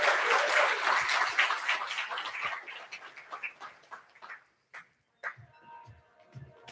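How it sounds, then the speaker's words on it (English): Audience applause at an awards luncheon, a dense burst of clapping that fades over several seconds into scattered claps, then sparse sounds and quiet murmur. "I'm going to ask you to give Hilton a warm round of applause"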